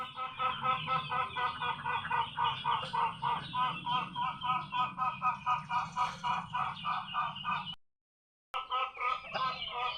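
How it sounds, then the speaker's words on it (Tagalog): A chicken clucks in a repeated, rhythmic series of close, fairly loud calls at a farmyard in the countryside, broken by a brief gap of silence near the end before the clucking resumes. "Ayan na naman yung isang manok."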